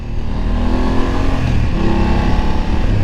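A BMW 850 GS motorcycle engine accelerates hard, its loud, close, steady drone climbing in pitch along with wind rush.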